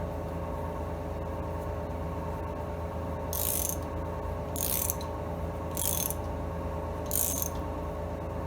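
A ratchet tightens the head bolts on an Allis Chalmers WD45 tractor engine. Four short bursts of crisp clicking come about a second apart, close and distinct over a steady background hum.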